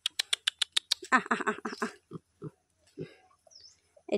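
Piglets on a farm respond to being called: a quick run of rhythmic, evenly spaced calls opens, then a cluster of close grunts and snuffles follows, trailing into scattered low grunts.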